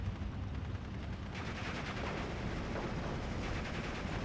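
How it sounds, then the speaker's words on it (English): MG34 machine gun fire in a World War II strategy game battle: steady, dense gunfire and rumbling combat noise under a continuous wash of sound, fairly distant and muffled throughout. "The MG34s will pin me very, very, very quickly"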